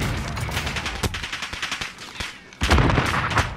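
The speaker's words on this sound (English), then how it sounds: "There's someone sniping." Sniper shots and scattered gunfire ring out in a Call of Duty: Warzone match, with sharp cracks over a busy battlefield din and a loud burst near the end.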